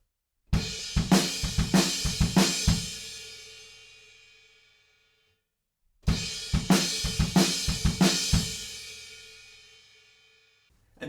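A drum kit plays the short fill within a song's groove before the post-chorus, a quick burst of snare, tom and kick hits ending on a ringing crash, played twice with a pause between.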